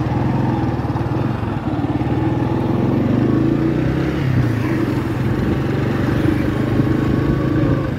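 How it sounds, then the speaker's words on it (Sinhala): A motorcycle rides along a road, its engine giving a loud, steady, close-up drone with slight rises and dips in revs throughout, and no voices. "ඒක නිසා අපි කුෂියවත් එක්කගෙන ආයි බයික් එක හරවගෙන ගියා අලියා බලන්න."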